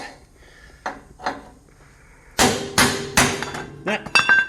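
Hammer blows driving stubborn rivets out of a 1984 GMC squarebody truck frame, a few light taps followed by several loud metallic strikes with ringing tones, close by.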